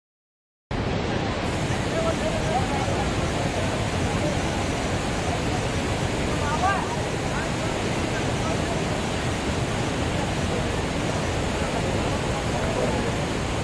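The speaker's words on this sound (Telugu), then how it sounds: "ఇలా వాటర్ డ్యామ్ గేట్స్ అని ఎత్తేయడంతో ఆ వాటర్ అనేది ఇలా చిన్న తుంపర్లా పడి ఒక చిన్న వానజల్లా పడింది" Water from the opened gates of Srisailam Dam roars as a steady, dense broadband rush, falling as fine spray like a light rain shower, continuous and loud throughout with no pauses.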